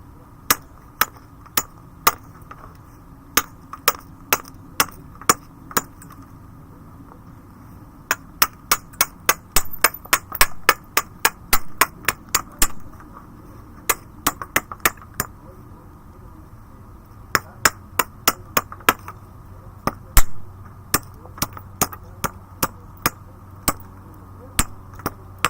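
A hammerstone knaps a piece of scavenged glass, giving sharp, crisp clicks in quick irregular bursts with short pauses between them, close and clear over a faint background hum.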